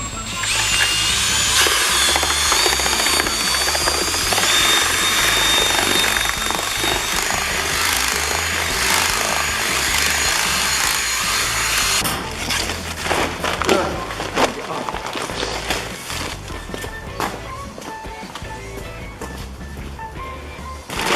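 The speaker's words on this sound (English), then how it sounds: "to mix the milk powder up, I'm just going to use an electric whisk." A loud Milwaukee electric drill fitted with a whisk whirs continuously as it mixes milk powder and hot water for calf feed, the motor's steady whine changing pitch partway through.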